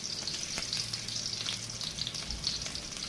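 Chopped onions sizzle in hot oil in a frying pan while cooking a fish curry with tomato and potatoes, a steady, close hiss of frying with faint crackles and occasional stirring.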